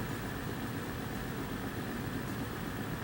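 A small pulse motor runs steadily at around 460 RPM, giving a continuous low, even mechanical hum with a dense rumble throughout and no speech.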